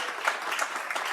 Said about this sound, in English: I think we need to give her applause